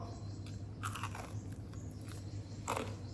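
Crispy fried pork is bitten and chewed close to the mic, giving a couple of loud crunchy bites followed by softer crackling mastication with no talking.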